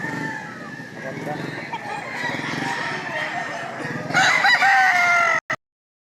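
A rooster crows loudly and repeatedly at a gamecock sale in Lipa, Batangas, with crowing and clucking over a busy crowd of voices, growing louder toward the end.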